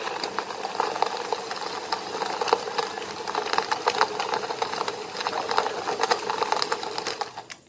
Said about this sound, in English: Now mix this mixture using electric mixture. Make it slow, okay, and just slow speed.